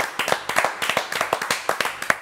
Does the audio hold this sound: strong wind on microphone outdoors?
no